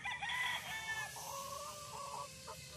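Chickens and roosters at a game farm crow and cluck in a mix of calls, one crow ringing out clearly near the start, then softer overlapping calls and a faint murmur of background farm activity.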